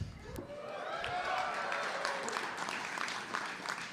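A fairly faint crowd claps at a live event revealing the name and logo of a new Greensboro hockey team, steady applause heard from a distance while someone speaks near the microphone.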